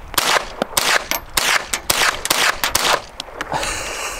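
A .22 rifle fires a quick series of sharp shots in an uneven rhythm, each with a short ringing tail, loud and close outdoors.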